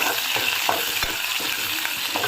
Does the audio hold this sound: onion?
yes